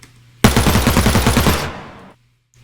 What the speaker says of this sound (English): Very basic library gun sounds.